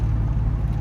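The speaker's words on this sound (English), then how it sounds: "feathering the throttle." Supercharged LT4 V8 in a 1969 Yenko Camaro, 650 horsepower, idling under a lightly feathered throttle: a steady, deep, loud rumble held close for a brief moment with no other sound.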